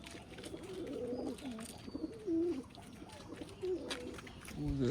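Pigeons coo repeatedly at close range, several soft, throaty calls rising and falling over a steady background hiss, with no talk over them.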